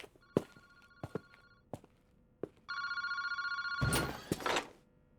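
In the game Paranormasight, a telephone in a park phone booth rings with a steady electronic trill after a few scattered thuds and footsteps, followed by a clunk as it is picked up.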